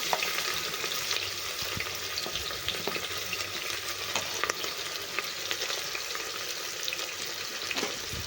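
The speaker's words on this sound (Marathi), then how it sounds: "कांदा चांगले आपल्याला छान परतून घ्यायचं आहे" Chopped onion sizzles and fries steadily in hot oil with whole spices in a cooker, a close, continuous crackle with occasional stirring scrapes and no talking.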